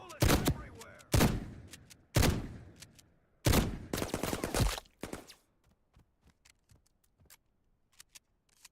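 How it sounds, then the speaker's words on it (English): Gunfire in the extraction shooter Reaper Actual: several loud close bursts of shots in quick succession, then a long ragged volley, fading into sparse scattered single shots and faint clicks. "Fall back. Bullets everywhere."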